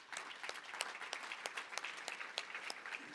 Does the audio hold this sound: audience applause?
yes